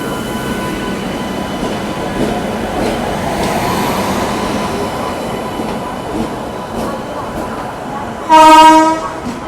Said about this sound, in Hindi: फाइनली 1:10 में अपनी सियालदह राजधानी एक्सप्रेस आ चुकी है प्लेटफॉर्म नंबर 7 पे।